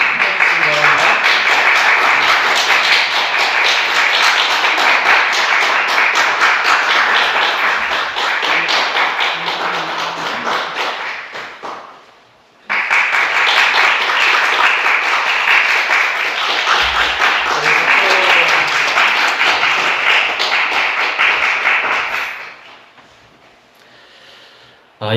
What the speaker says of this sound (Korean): 우리 나오실 때 큰 박수 부탁드립니다